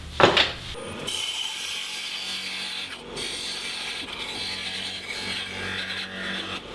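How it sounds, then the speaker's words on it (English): A parting tool cuts into a spinning wooden lidded box on a lathe, making a continuous scraping, rasping hiss that stays steady and fairly loud after a sharp initial catch. "I'm just going to come in with a parting tool and part it off"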